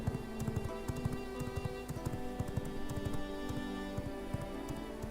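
Horse in the V Rising video game, with steady repeated hoof clip-clops trotting at a quick even rhythm over a rain-like game ambience, fairly faint and without talk.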